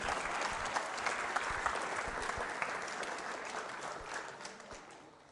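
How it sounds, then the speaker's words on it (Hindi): Loud, steady applause from a school quiz show audience cheering a contestant, dense and continuous for several seconds without any voices. "तालियां जोरों से बजाइए अमरप्रीत सिंह के लिए।"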